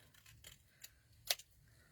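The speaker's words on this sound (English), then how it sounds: "I'm just going to cut down, and I'm going to get my big scissors." Large scissors snip through paper while working on a stamped card craft, giving a few quiet, separate cuts with one sharper snip near the end over a faint hum.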